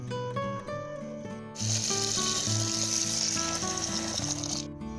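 Cold water gushes and pours steadily into a pot of lemons for pickling for about three seconds, a bright rushing splash over light background music that continues before and after.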